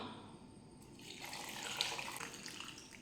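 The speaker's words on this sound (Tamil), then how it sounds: "இதில் நம்ம தண்ணி ஊற்றிக்கலாம்." Water poured into a jar holding cut lemon pieces for detox water, a soft steady splashing stream, faint and close, with no voices.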